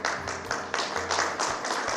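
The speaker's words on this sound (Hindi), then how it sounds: "2-4 लोग ताली मन से बजा रहे हैं," A few people clap together in a small gathering, producing rhythmic bursts of close, moderately loud hand claps that come in uneven waves over a low hum.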